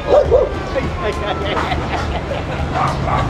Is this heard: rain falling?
no